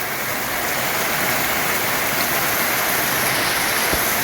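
Heavy first-of-season rain pours steadily with rainwater rushing and flowing nearby, a dense, constant roar of water with no voices.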